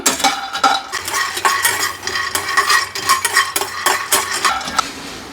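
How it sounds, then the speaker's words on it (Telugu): Chutney ingredients fry in a pan, a spoon scraping and clattering against the metal in quick irregular strokes over a faint sizzle, close and fairly loud with no talking. "ఇప్పుడు దీన్ని ఫ్రై చేసుకోవాలి"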